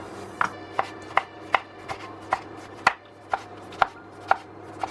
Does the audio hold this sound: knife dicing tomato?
yes